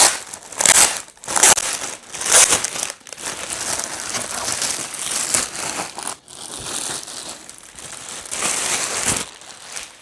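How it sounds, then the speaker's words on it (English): A plastic bag is pulled off a Bambu P1S 3D printer, giving loud, close crinkling and crumpling in bursts for about ten seconds, with no talking. "the first thing we need to do is take off this plastic bag."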